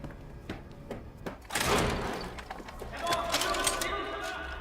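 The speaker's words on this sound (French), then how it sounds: "C'est la porte." A door opening in a dark, tense horror-film scene, with a sudden broad burst of rattling and scraping at mid-clip followed by sustained clattering noise, while muffled voices and movement sound around it.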